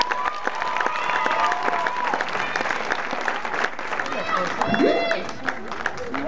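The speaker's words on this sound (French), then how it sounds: "On peut les applaudir s'il vous plaît." An audience at a children's end-of-year show applauds loudly and steadily, with dense clapping mixed with cheers and excited young voices throughout.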